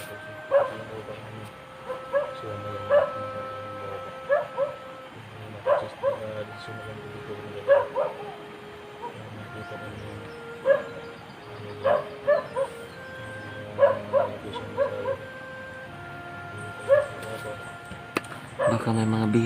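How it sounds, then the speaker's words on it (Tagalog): Many dogs bark from some distance in repeated bursts of yips and barks, irregular but frequent, with a faint background hum between bursts. "Sobrang daming aso mga idol."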